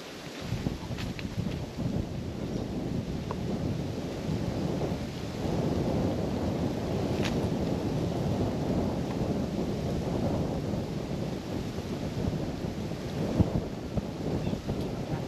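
Wind picking up outdoors in hot Australian country near the water, a steady broad rush and microphone buffeting that holds loud and constant throughout, with no one speaking.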